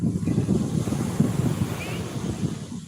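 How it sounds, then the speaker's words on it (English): Ocean waves wash against the shore under strong wind, a loud, steady roar with heavy low-pitched buffeting on the microphone and no clear breaks, with no talking. "Yeah, guys, this is how ocean is."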